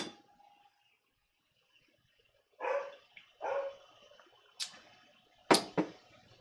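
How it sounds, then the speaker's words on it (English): A few scattered dog barks at a moderate distance, separated by quiet gaps, with a couple of sharper metallic clinks near the end. "Can you guys hear Isabel barking?"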